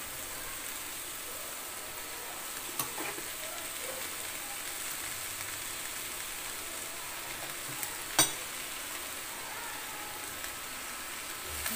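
Rice stirred into vegetables in a frying pan gives a constant, close sizzling hiss, broken by a couple of sharp clicks from the spoon against the pan, with no talking.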